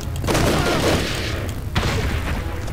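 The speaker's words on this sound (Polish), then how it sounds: "gdzie można coś wysadzić kolejnym mega epickim wybuchem" A huge explosion in the video game Army Men: Sarge's War, a loud sustained roar of blast and debris followed by a second thudding burst, alone with no talking.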